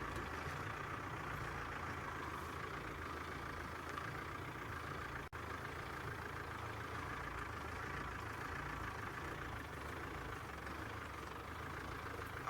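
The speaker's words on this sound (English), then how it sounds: "Let me just switch off the car. It's quite noisy" A safari vehicle's engine idles with a steady, low rumble throughout, heard from inside the car on an evening game drive, with one brief dropout partway through.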